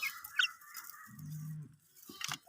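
Chickens on a farm clucking, a few short close calls followed by a brief low croak and another cluck, fairly faint and quiet.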